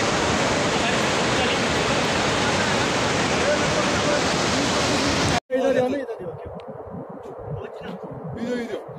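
Raging river flood torrent below Tapovan in Chamoli Garhwal, Uttarakhand, after a glacier burst, washing out a bridge: a loud, dense, unbroken roar for about five seconds, then an abrupt cut to a quieter rumble with voices talking over it.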